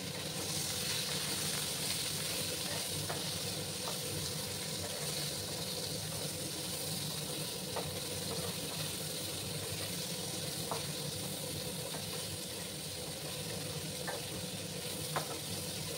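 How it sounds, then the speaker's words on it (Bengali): Bitter gourd pieces fry over high heat in a pan, giving a steady, even sizzle and hiss throughout with a few faint clicks of stirring, and no voices. "আমি এই করলাগুলোকে একটু লাল লাল করে ভেজে নেব।"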